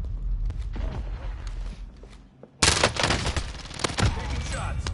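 Rapid video-game gunfire erupts in a loud, dense burst after a brief lull, layered over earlier scattered shots and rumbling battle noise, with players talking faintly.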